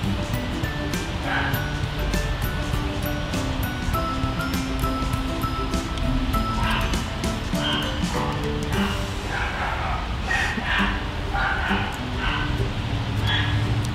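A dog yips, barks and whimpers in short, uneasy bursts, moderately close, over a steady wash of background noise with voices and tonal sounds underneath.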